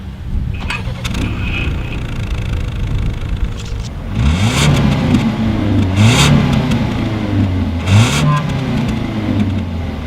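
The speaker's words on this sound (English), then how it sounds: "As always, here is that exhaust clip." A 2019 Ford Edge SUV engine idles with a throaty exhaust burble, then revs sharply twice, each rev rising and falling back to idle.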